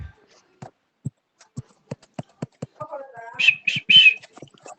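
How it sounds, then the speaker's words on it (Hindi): A person whistles in the background of a recorded maths class, a few short shrill whistle bursts near the end after a series of faint clicks and taps, with quiet speech-like sounds at a distance. "देखो पीछे से कोई सीटी बजा रहा है।"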